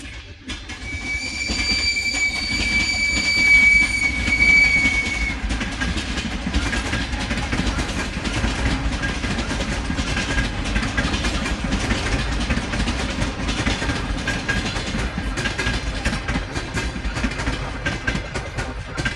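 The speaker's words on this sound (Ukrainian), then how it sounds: "тут зараз буде гучно, тут е, залізна дорога поруч" A train rumbles past on a railway right beside a vegetable garden, loud and continuous, with wheel clatter and a high squeal early on.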